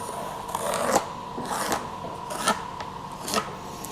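A pencil traces a template outline onto a wooden board for a large serving board, producing repeated scratchy rubbing strokes close up, about four distinct passes with short pauses between them.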